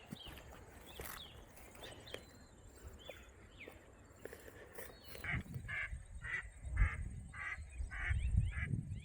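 Ducks quack outdoors during a rural hunt, with a steady run of short, repeated quacks growing louder in the second half over rustling footsteps and background noise.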